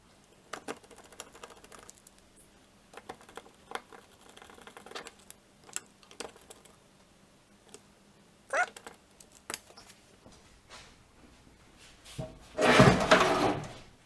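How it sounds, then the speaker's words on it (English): Two screws being driven back into a Tempstar furnace control board, heard as scattered small clicks, taps and scraping handling noises, ending in a louder burst of rustling near the close. "now I just push the other board in and put the 2 screws back in"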